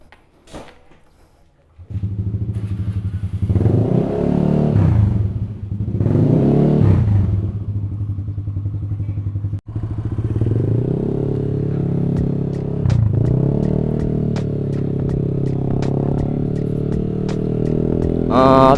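Yamaha Aerox 155 scooter with a custom CVT setup on a test ride, engine revving up and easing off in repeated surges, then a long steady drone close by, with a brief mechanical clunk midway.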